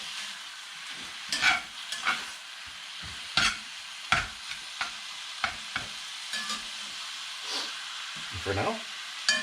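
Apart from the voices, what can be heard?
browning beef in a pan for chili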